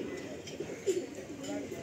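Madrasi breeder pigeons coo softly nearby in a brief low burble, with someone talking over them.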